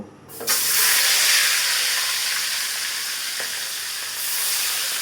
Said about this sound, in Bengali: তেল গরম হয়ে গেছে, এখন মাছগুলো আমি তেলের উপরে দিব